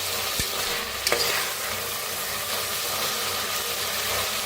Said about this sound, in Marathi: मस्त असं भाजायचं तेल सुटेपर्यंत.